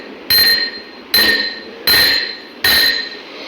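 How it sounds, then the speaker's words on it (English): Steel spoon tapping glass tumblers filled with water: four bright, ringing clinks at an even pace, each with a clear sustained pitch that decays before the next tap. "we can observe what happens when we tap these each tumblers with a steel spoon"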